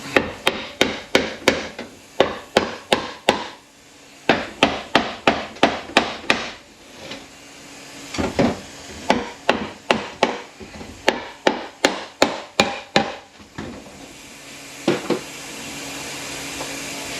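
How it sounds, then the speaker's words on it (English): Sharp metallic taps ring out on a Borg Warner 44 86 transfer case, struck in quick bursts of three to six hits with brief pauses between groups, close and clear with no talking. "Several spots around the case where you can tap on it"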